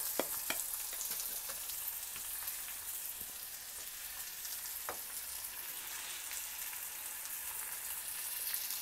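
Onion pieces softening in oil with turmeric added, a faint, even sizzle running throughout with scattered light ticks of stirring.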